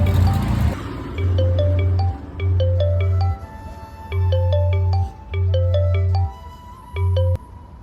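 A mobile phone rings with a bright melodic ringtone, its repeating tonal phrases sounding clearly over a steady low hum that starts and stops between rings.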